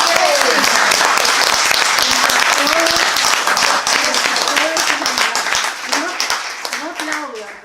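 A live audience bursts into loud, sustained applause at a Miami stage show, dense clapping filling the whole stretch with a voice briefly heard speaking over it before it thins slightly toward the end.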